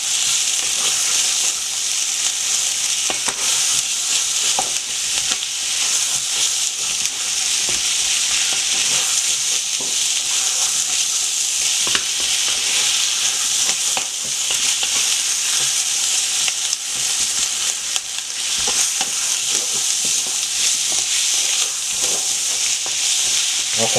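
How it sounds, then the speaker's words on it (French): Onions and sausages fry in a pan for a Réunion-style babafigue curry as spices are stirred in, a steady loud sizzle and hiss running throughout with faint scraping of the spoon, no talking. "puisque les oignons ont pris la couleur, on va ajouter les épices qu'on a bien filées. On va mélanger tout ça."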